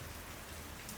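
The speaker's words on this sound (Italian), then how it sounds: "il problema è che piove un pochino" Steady rain falls in Majorca, a dense, even hiss of drops on surfaces heard close and continuous with no voices.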